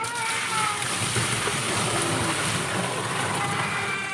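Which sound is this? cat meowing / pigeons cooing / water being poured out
water being poured out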